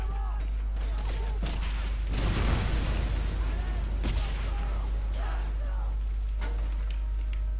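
A grenade blast in the Wolfenstein video game, a broad rumbling burst near the middle of a busy stretch of game sound, with other pops and bangs around it.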